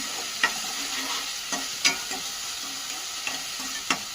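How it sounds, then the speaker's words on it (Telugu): Snail curry stirred in a pan after chili powder is added: a continuous sizzle broken by about half a dozen scraping strokes of a spoon at irregular intervals, close up and without any voices. "కొద్దిగా కారం, వేసేసుకొని ఇలా కలుపుకోవాలి."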